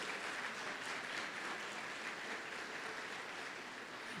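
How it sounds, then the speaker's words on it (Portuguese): Steady clapping from a church congregation during a service, even and continuous, heard from a distance at low level with no pauses. "Vamos aplaudir o Senhor Jesus pela vida dos dois"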